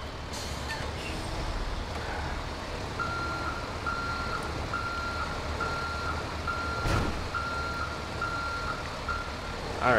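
A truck and skid steer in a video game construction scene back up, with a steady repeating reversing beep running for several seconds over a constant engine rumble, fairly loud and close.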